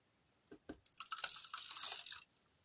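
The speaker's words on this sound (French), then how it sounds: "On va prendre de la souris-colle." A glue tape roller laying adhesive for scrapbooking: a couple of light clicks, then a steady close rasping, crackly roll lasting about a second, with no talking.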